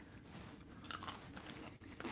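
Someone crunches and chews a pickle distributed by Buc-ee's in Texas, close and quiet, with a few crisp bites around the middle and soft chewing throughout, no talk.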